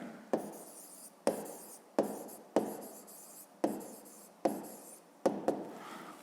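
Hand writing of a maths answer for a fifth-grade perimeter exercise: a series of distinct pen or chalk strokes, each starting with a sharp tap and trailing into scratchy scribbling, about seven in a row, close and fairly quiet, with no talking.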